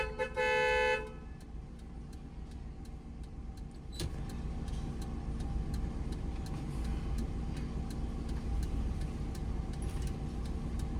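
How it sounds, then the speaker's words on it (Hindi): A brief car horn beep at the start, then a steady idling engine with faint ticking and clicking continuing throughout, during a driving lesson. "हॉर्न दो, हॉर्न।"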